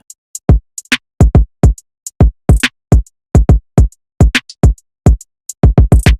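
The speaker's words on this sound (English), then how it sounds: "Which was followed by this hi-hat." A drum beat of punchy kick and snare hits is joined by crisp hi-hat ticks in a steady, sparse pattern, loud and close with silence between hits.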